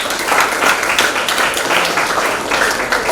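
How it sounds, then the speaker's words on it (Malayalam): A crowd gives a warm round of applause for the PT teacher at a school ceremony honouring Kerala team members, dense continuous clapping close and loud for a few seconds. "ഒരു നല്ല കയ്യടി അറിയിക്കുന്നു"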